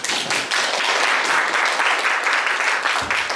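Loud, sustained applause from a seated audience at a university innovation forum, welcoming the opening speaker; dense, even clapping fills the room for several seconds before easing off.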